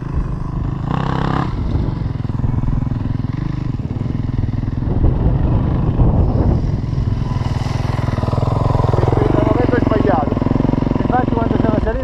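Enduro motorcycle engine starting on electric start: a low, close engine rumble with clatter that builds toward the end, while people talk over it.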